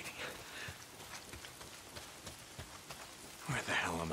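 Rain falls steadily through the Days Gone video game world, a broad continuous hiss with a few louder patters, turning heavier and closer near the end.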